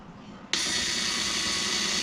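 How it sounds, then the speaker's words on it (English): A small drill whirs on abruptly after a brief quiet moment during a kitchen hinge repair, then holds a steady high-pitched buzz at close range. "A little drill, you know."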